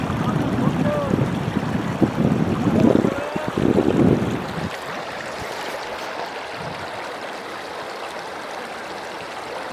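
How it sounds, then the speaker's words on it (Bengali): Water rushes and splashes at Sada Pathor in Bholaganj, Sylhet, with drops falling in the rain; a loud, turbulent wash dominates at first, then settles into a softer, steadier rush. "এখানে প্রচুর শব্দ পানির, এবং পানির ফোঁটা ফোঁটা পড়তেছে,"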